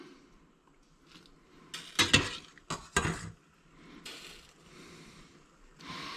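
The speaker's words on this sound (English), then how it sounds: "I'm going to stir in the cheese." Cheese is stirred into Käsespätzle noodles in a pot: soft scraping builds into a cluster of loud metallic clanks of a spoon against the pot near the middle, then eases back to quieter stirring with a final knock.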